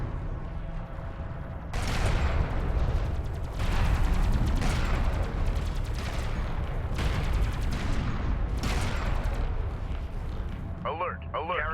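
Video-game gunfire and artillery pound a carrier in dense, loud, sustained barrages of booming blasts and crackling shots, easing briefly between waves. No one speaks.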